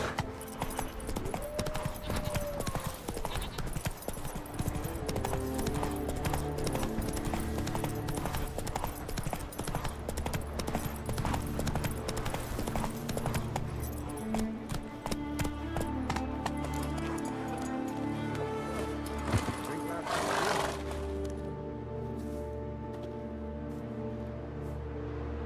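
Roach, a horse in The Witcher 3: Wild Hunt, gallops with steady rapid clip-clop hoofbeats that run loud and continuous, layered with game ambience and music, before easing off near the end.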